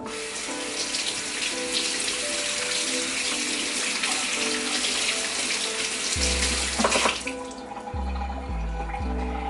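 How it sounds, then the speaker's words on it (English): Camote, or sweet potato, being washed under a running kitchen tap for chicken soup, with steady broadband water rushing and splashing throughout and some low clunking handling near the end; no talking. "this one I'm gonna go ahead and wash"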